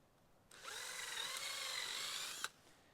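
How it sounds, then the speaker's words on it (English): A power drill whirs steadily for about two seconds as it bores holes into a wooden beehive frame, starting abruptly and stopping with a short click, in a quiet room. "I'm drilling holes for fishing line"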